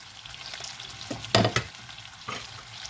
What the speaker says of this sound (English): We're going to stir these around